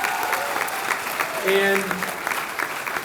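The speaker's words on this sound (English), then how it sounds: "So a round of applause for them one more time." Crowd applause at a middle school eighth grade recognition ceremony for the graduating class, steady dense clapping throughout with a brief tonal tone partway through and a single spoken word.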